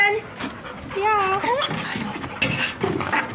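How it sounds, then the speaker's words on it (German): Dogs whimpering and yipping up close in rising, wavering cries mixed with panting, while a person talks over them. "Die Hunde sind schon mal da."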